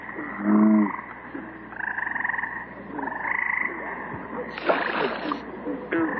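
Bullfrogs at a pond at night give deep, throaty croaks in separate bursts, fairly close, over a low hum, with a brief splashy rustle near the end.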